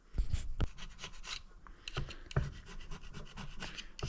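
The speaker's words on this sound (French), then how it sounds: "Il me reste encore un peu à gratter là quand même" Repeated rasping scrapes of a tool removing old gasket residue from a Peugeot 305 engine, in short close strokes with a few sharper knocks, no talking.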